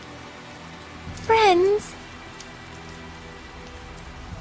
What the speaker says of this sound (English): Tell us the details after we find shelter from the rain, if you please.